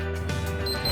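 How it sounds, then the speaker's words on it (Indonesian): A hospital nurse call button gives steady electronic beeping tones with a bright high pitch, close and clear, with no talk over it. "Dengan menekan tombol C, lalu menahan hingga berbunyi bip 3 kali"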